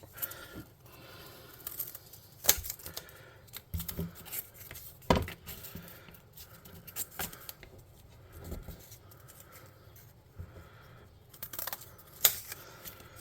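A pair of scissors cutting material to build a mechanical bullette model for a tabletop game, with irregular crisp snips and clicks, close up, spread through the clip with no talk.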